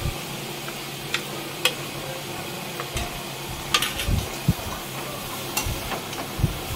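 Chicken pieces fry in a pan with salt, turmeric and ginger paste, a steady sizzle broken by scattered sharp pops and the scrape of stirring, close and fairly loud with no talking.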